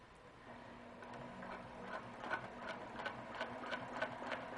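A sewing machine stitches a quilt block, its quiet motor whirring under a fast, steady needle ticking that grows slightly louder as it runs, with no talk.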